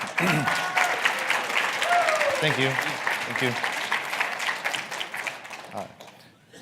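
Conference audience at GRCon18 in Las Vegas applauding a radio engineer, a dense round of clapping while someone speaks briefly over it before it tapers off.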